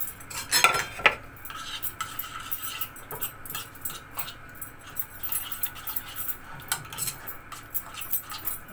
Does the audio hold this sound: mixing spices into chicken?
yes